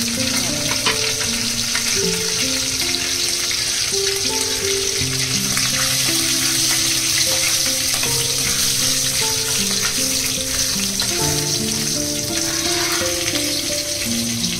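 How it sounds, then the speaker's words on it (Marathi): Cumin seeds and two or three green chillies frying in hot oil, a steady close sizzle with stirring scrapes, continuous and fairly loud throughout. "जिरे टाकूया, जिरा राईस आहे ना म्हणून जिरे टाकूया, मिरच्या टाकल्यात मी 2-3"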